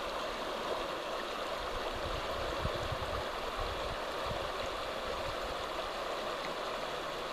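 A river flowing steadily around someone standing in it, a soft continuous rush and gurgle of moving water, fairly quiet and even throughout with no voices.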